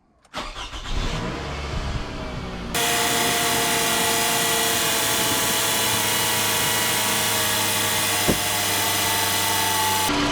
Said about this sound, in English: Okay, so I'm going to start up the engine.